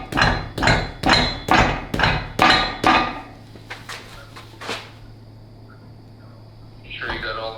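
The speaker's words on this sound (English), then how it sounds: "Maybe whack a rubber mallet a few times" A rubber mallet strikes an aluminum 5.3 LS engine part seven times in a steady rhythm, each a loud, close thud, followed by a few softer knocks and a quiet stretch with faint shuffling.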